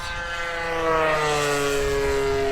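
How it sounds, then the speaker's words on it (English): A radio-controlled model airplane drones past, its high whining engine rising and sliding in pitch as it passes, steady and fairly loud without talk. "that guy there flying his noisy plane"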